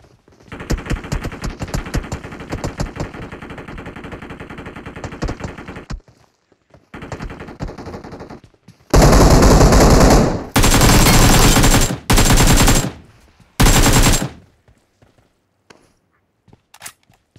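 Loud automatic gunfire in the mobile shooter BGMI, long rattling bursts followed by several short sharp volleys separated by brief pauses, close and dominant with no speech.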